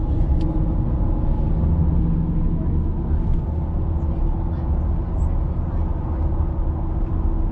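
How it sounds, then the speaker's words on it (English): Pickup truck tires, on a Ford F-150, rolling over the road at about 45-50 mph, a steady broadband road roar and low rumble that holds evenly throughout with no talking. "y'all can hear what the tires sound like, just normal day-to-day driving"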